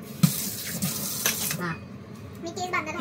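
Tap water runs hard into a household sink while dishes are scrubbed, a loud splashing rush for about a second and a half that then eases into softer trickling and clinks, with faint voices in the background.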